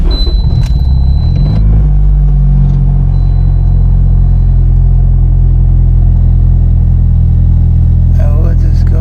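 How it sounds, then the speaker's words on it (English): A turbocharged R18 engine in a 2006–2011 Honda Civic cranks briefly, then catches and settles into a steady, loud, close idle rumble that continues unbroken. "We're gonna crank the car."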